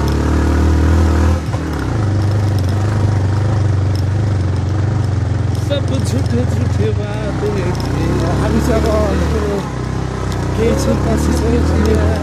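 Motorcycle riding on a road, its engine droning steadily with some clatter and rising revs, close and loud, while someone talks over it through most of the ride.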